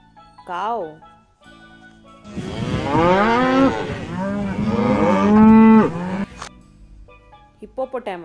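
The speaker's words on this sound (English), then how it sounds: "Cow." A cow moos loudly and close in one long, drawn-out low call with rising and falling pitch, preceded by a short tonal note and followed by quieter clicks.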